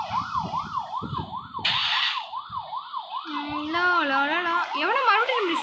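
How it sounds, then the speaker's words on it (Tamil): A police car siren in the video game Rope Hero wails in a rapid rising-and-falling cycle, then a second siren joins with a slower, lower sweep, loud and close over engine noise. "போலீஸ் வண்டி நம்மளை துரத்துது"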